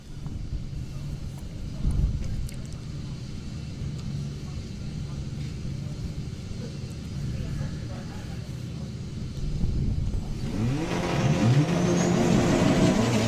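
A VW Golf drag racing at Santa Pod, heard as a low engine rumble under a commentator's voice, then a louder rising roar of acceleration in the last few seconds.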